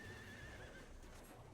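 A horse in the Final Fantasy 14 video game gives a brief neigh that is faint and distant, with a thin whinnying tone over a low background wash.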